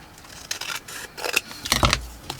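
Scissors trim a piece of paper card for an ephemera pocket, giving a handful of short, crisp snipping cuts in irregular bursts, close and fairly quiet, with no voices.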